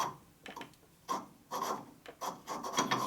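A NOS transmission part from a 1942 Harley WLC/WLA 45ci is lapped with grit still in it. Several short, faint, gritty rasping strokes follow one another closely, with brief gaps between them.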